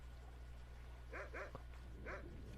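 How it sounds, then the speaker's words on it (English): A dog barks in the video game Skyrim, three short distant barks in quick succession over a low steady hum, with no talking. "You'd think the guards would know where I am by now, just from the dog barking."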